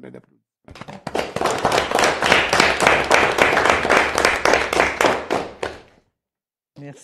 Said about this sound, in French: C'est une bonne belle applaudissement.